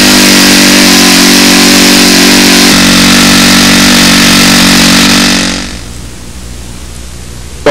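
A model airplane engine fitted with its stock header roars loudly at high revs, holds steady, then drops sharply to a low idle as the throttle is pulled back.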